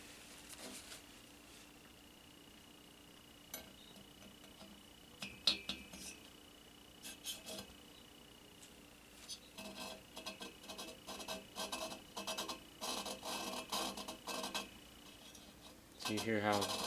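Valve lapping in a 1974 VW Super Beetle cylinder head: a close, repetitive scraping grind of the valve against its seat, quiet at first, then a steady run of rhythmic strokes with no one talking.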